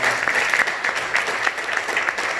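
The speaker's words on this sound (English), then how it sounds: "give these young people a round of applause" A graduation celebration crowd gives a short burst of applause, a dense and even patter of many hands clapping at moderate volume throughout.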